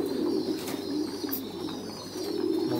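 Soft cooing from a pair of breeding pigeons at a farm loft, low murmuring calls repeating steadily at close range over a constant background hum.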